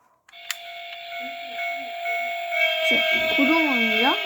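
A subway train's horn sounds with a sustained tonal blare over the rumble of a moving carriage, with some voices and Korean station announcements in the background.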